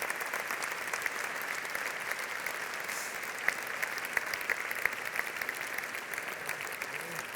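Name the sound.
applause for the workers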